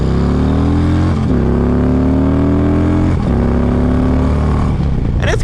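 Harley-Davidson Electra Glide motorcycle accelerating through the gears, a loud close engine note rising in pitch, dropping briefly at each shift and climbing again, ending with a sharper burst.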